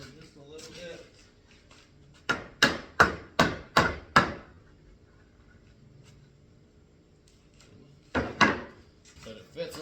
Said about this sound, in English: Grab my hammer, tap that thing over just a little bit.